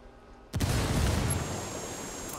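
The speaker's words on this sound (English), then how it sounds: "Throwing a flashbang." Flashbang grenade detonating in a first-person shooter game: one sudden loud broadband blast that rises abruptly after a short quiet stretch, then a sustained roaring ringing decay that fades slowly.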